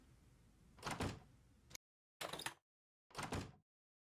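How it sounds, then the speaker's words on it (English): A door closing in the visual novel Witch on the Holy Night, heard as three quiet sliding and shutting sounds separated by silent gaps, the first longer with a soft thunk. "Tobimaru closed the open door, locked it, and slumped into a chair"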